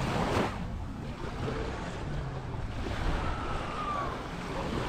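Sea waves wash in at Playa Tortugas beach in Cancún's hotel zone as night falls, a continuous near surf rumble mixed with gusty wind buffeting the microphone, with no talking.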